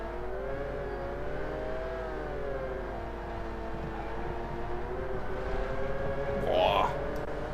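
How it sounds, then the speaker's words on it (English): A steady droning car engine in the video game BeamNG on the Nordschleife holds a rising, slightly wavering pitch, with a brief sharper squeal near the end over a low background hum. "Hear synchronous that engine sound"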